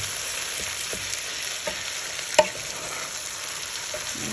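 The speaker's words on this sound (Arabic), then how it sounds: "نقلبهم منيح مع البصل، ياخدوا زيت وبصل مع بعض، يتخلطوا مع بعض منيح." Meat being stirred with onions and oil in a pot for a tomato meat stew, a low steady sizzle with soft scraping strokes and one sharper clink of the spoon against the pot.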